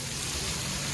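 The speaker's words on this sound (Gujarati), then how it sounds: "ફાઇનલી આગમન થઈ ગયું વરસાદ નું આપણા ઘરે મતલબ જુનાગઢ માં" First monsoon rain falling at a home in Junagadh, a dense, steady hiss of rain on surfaces filling the moment evenly, loud and close with no speech.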